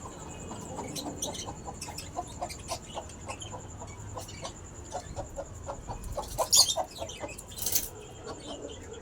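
A country hen clucks in a steady run of soft, repeated clucks, close by and fairly quiet, with a few louder squawks near the end, on a rooftop terrace.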